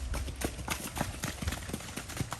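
Horse hooves clip-clop in an irregular rhythm close by, a steady series of hollow knocks over a rustling background, in Medellín, Colombia.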